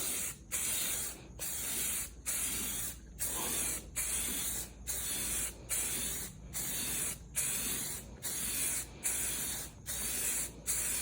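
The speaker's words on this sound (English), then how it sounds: "give it a good bit of distance so you're not spraying directly on it" Repeated short bursts of spray paint hissing, about a dozen evenly spaced blasts with brief pauses between, close and steady, while painting wheel rims.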